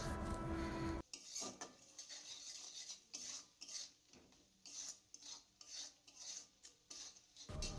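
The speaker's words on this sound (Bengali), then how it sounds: "এটা ভালো করে নাড়তে হবে যতক্ষণ না এ থেকে তেল ছাড়ছে" A spoon scrapes and stirs thick frying masala around a pan as the oil begins to separate, making repeated rasping strokes in an uneven rhythm, close and fairly loud, with no talking.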